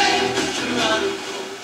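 A distant FM radio station bursts in through a meteor scatter ping, music suddenly emerging from the noise as a loud, clear signal that fades slightly toward the end.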